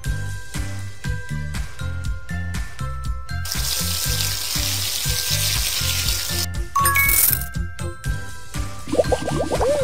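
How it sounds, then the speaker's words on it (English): Cartoon hair-rinsing water from a kids' makeover salon game, a steady hiss of running spray over a bouncy, looping synth music track, ending with a short chime and playful game effects. "Can you wash my hair?"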